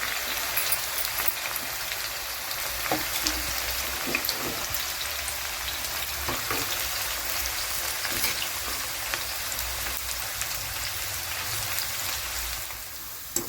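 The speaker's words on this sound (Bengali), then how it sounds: "অল্প অল্প করে কিন্তু আমরা পেঁয়াজগুলোকে ভেজে নেব" Sliced onions frying in fully heated oil for chicken korma, a continuous loud crackling sizzle with scattered pops, steady and close throughout with no talking.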